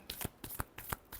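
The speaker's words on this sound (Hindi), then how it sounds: "Last shuffle." Tarot cards are shuffled close by in a brief, quick run of soft papery riffles, several rapid flicks in an even rhythm, with no talking.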